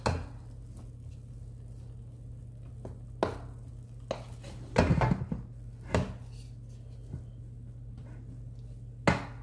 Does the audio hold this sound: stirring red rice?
yes